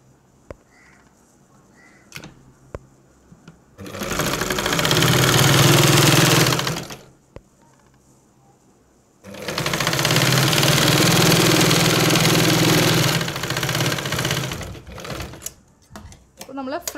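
Domestic sewing machine stitching narrow tucks on a churidar, two sustained runs of steady motor whir and needle hum separated by quiet pauses with small clicks of handling.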